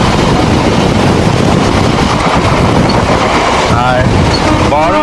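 A passenger train rolls along the Beldanga to Lalgola line, giving a loud, constant roar and rattle with wind rushing past, heard from on board, and faint wheel squeals near the end.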